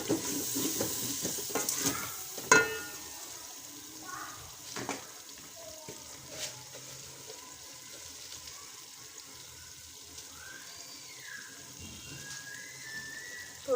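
Water poured into a pan of frying masala with crushed dry coriander, giving a soft sizzle and bubbling with a few clanks of a spoon against the pot, fairly quiet and close.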